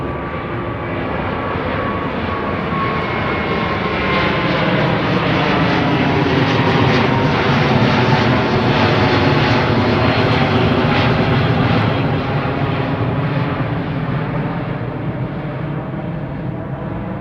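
Airbus A350 airliner on Heathrow runway 09R, a loud sustained engine roar swelling to a peak around the middle and easing slightly toward the end, with a steady broadband rumble throughout.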